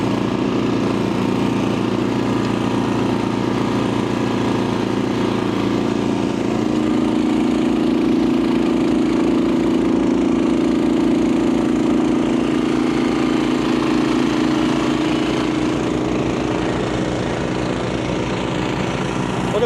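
Honda HSS1332 ATD snowblower engine running on its own with nobody at the controls, a steady, loud, close mid-pitched engine drone that holds evenly throughout with a slight shift in tone partway through.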